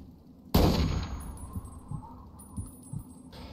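A single loud gunshot in a video game bursts near the start and decays into a reverberant tail, followed by a few faint metallic clicks and thuds.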